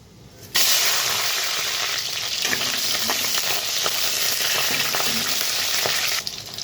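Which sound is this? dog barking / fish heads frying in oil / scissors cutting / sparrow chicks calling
fish heads frying in oil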